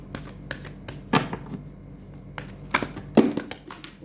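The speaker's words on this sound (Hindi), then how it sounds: "कार्ड्स गिर गए मेरे" Tarot cards slipping and falling during a card reading, a scattered patter of soft slaps and flicks close by, with a few sharper clacks.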